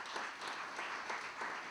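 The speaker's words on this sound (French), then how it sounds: "Je vous propose d'applaudir à la fois nos invités." An audience applauds the guests at the close of a debate on history and the lessons of Katyń held at the Polish Embassy, a sustained mass of clapping at moderate volume from a roomful of people.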